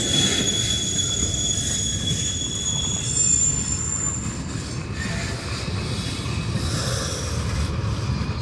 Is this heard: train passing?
yes